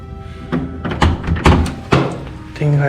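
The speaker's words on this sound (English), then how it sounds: "Let me lock the door first." A door being locked and pulled shut, a series of close thunks, clicks and knocks spread over a few seconds, with a brief voice near the end.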